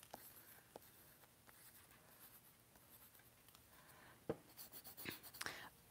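A pencil scratches across paper in quiet, faint strokes with a few sharper taps and scrapes near the end, heard close up with no talking.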